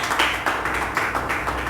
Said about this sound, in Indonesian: Kita beri tepuk tangan yang luar biasa bagi Tuhan Yesus